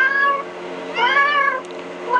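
A domestic cat meows repeatedly in reaction to kitten noises, with two drawn-out, rising-and-falling calls that sound close and fairly loud, with no talking over them.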